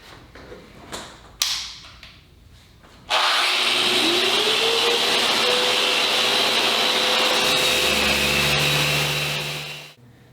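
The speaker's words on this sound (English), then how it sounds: "this sander will tear through edge or face grain like it's nothing and sand it smooth quick" A loud, steady electric sander whir starts abruptly after a few quiet seconds of light knocking, sanding an end-grain wooden cutting board, runs continuously, then winds down and stops near the end.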